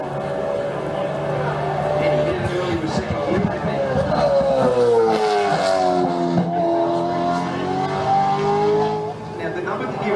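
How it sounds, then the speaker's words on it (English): A V8 Supercar at The Bend drops through the gears into the left-hander at turn 6, its engine blipping and revving hard on each downshift, loud and close with a sweeping pitch, while a voice talks over it. "a lot of down change revs on the left-hander at turn 6"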